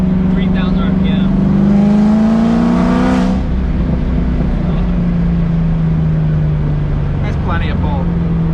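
A Chevrolet Corvette C7 Z06 pulls hard from third gear at 3,000 RPM, its engine note climbing loud and close from inside the car before easing off into a steady drone, with people talking over it.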